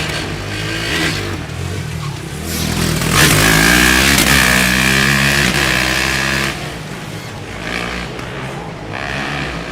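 A Formula Student race car on an autocross lap, its engine revving hard and climbing through gears, then dropping pitch as it downshifts, close and loud with a brief surge in the middle.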